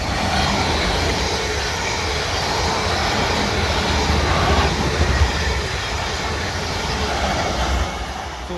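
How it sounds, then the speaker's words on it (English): A pair of Class 444 trains runs through Raynes Park station on the South Western Main Line, a loud continuous rush of wheels and traction noise that holds steady close by for the whole stretch. "This is a pair of 444s."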